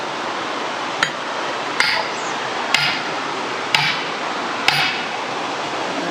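A 9.5-pound sledgehammer drives a steel wedge into firewood with five sharp metallic strikes, evenly spaced about a second apart, over a steady hiss of outdoor background noise.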